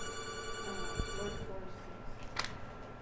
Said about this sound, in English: Let me answer another phone.